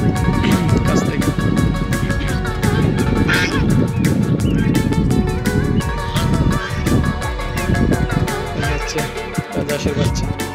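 Geese and goslings honk and call repeatedly at close range. The calls are loud and overlap with people talking and other farmyard noise.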